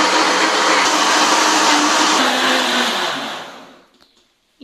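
A kitchen blender whirs loudly as it blends a boldo leaf drink, a steady close motor roar that runs for several seconds, then winds down and stops into near silence.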